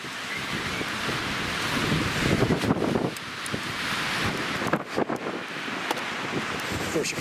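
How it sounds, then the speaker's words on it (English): Strong windstorm gusts roar outdoors, heavy buffeting against the microphone with rushing, surf-like surges that rise and dip over several seconds. "this is about as windy as I've ever seen it here"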